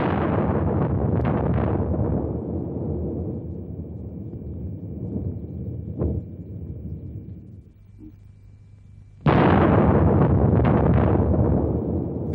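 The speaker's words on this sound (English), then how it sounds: "The explosion was the equivalent of more than 50 million tons of TNT, more than all the explosives used in World War II." Soviet hydrogen bomb explosion from 1961, heard as a deep, sustained rumbling roar that fades to a low drone, then a renewed loud blast of broadband roar close to the microphone.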